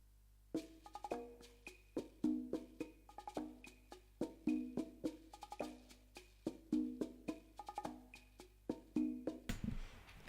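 A salsa ensemble percussion loop drawn from a Cuban sample library, with steady, evenly spaced hand-drum and bell hits repeating in a relaxed groove over a low hum, played alone with no voices.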